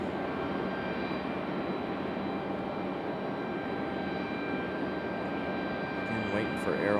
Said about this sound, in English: Our next arrival is American Airlines 1923 coming in from Philadelphia on an A319.